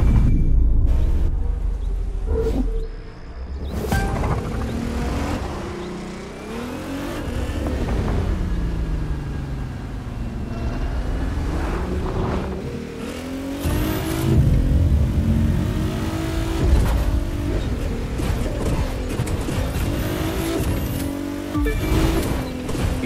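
Cars race in the video game The Crew 2, their engines revving hard and loud. The pitch climbs and falls as they accelerate and shift, and the roar holds steady throughout with no talk.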